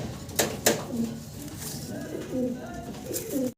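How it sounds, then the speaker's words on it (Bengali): A female fancy pigeon gives soft, low, throaty coos, set against a couple of sharp clicks and a voice nearby. "মাদি কবুতর।"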